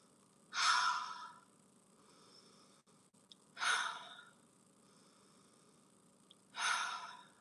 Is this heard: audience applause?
no